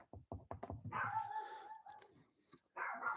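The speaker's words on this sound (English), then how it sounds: "My dogs. Look, they just got up and outside too, so now they're freaking out." Several dogs bark excitedly in a rapid run of sharp yaps, followed by higher whining, yipping cries. The barking is faint and sounds some distance away, and no one talks over it.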